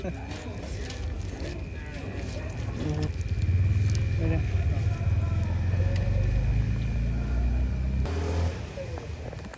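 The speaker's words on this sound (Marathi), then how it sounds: "मोरया आपलीच आहे गाडी फिरव." A vehicle engine hums with a steady low rumble while driving during a Ganpati arrival procession, running continuously beneath loud crowd voices and talk throughout.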